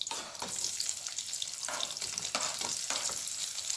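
Onions hit a hot pot of seasoned oil and sizzle loudly and continuously at close range, with a dense crackling hiss and small pops throughout.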